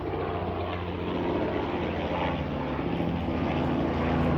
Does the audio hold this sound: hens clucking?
no